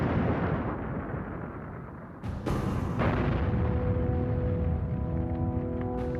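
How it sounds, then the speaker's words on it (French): A massive explosion rips through the ocean liner Normandie, a loud sustained roar with a sharp burst midway, followed by a lingering rumbling din with tonal hum. "Le Normandie est détruit par une explosion et un incendie."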